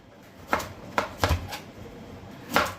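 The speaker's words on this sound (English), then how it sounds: "This is a itchy vegetable, so take your time chopping this." Knife chopping through a peeled itchy vegetable on a cutting board: a few sharp, separate strikes spaced unevenly, close and moderately loud, with no talking.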